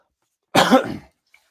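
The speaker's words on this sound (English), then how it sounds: "I need a cough button" A single short, close cough rings out of near silence, rough and throaty, then stops abruptly.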